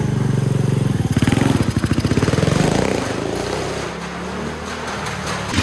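A motorcycle circles the wall of death, its engine close and loud, pulsing in rapid rhythmic bursts before settling into a steadier rumbling drone.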